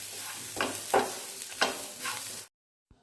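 Grated coconut, from half a large coconut, roasting in a pan gives a steady soft sizzle with a few scraping stir strokes, then stops abruptly.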